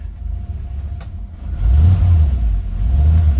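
A 1956 Chevrolet 3100 Cameo pickup engine rumbles close by at idle, then rises in a louder low-pitched rev halfway through and keeps running steadily, with no talking.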